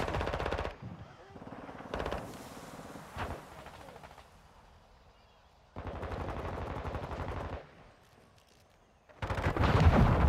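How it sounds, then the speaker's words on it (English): Call of Duty gameplay gunfire comes in long bursts of rapid automatic shots, loud and close, alternating with quieter stretches, with voices faintly heard in the mix. "I'm taking fire!"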